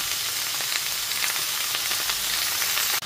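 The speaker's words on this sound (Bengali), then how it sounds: "সমস্ত সবজি দিয়ে দেওয়ার পর খুব ভালো মতো নাড়াচাড়া করে নিয়েছি।" Pumpkin, beans and ridge gourd pieces sizzle loudly and steadily in a hot pan for a mixed vegetable dish, with faint scraping as they are stirred and no talking.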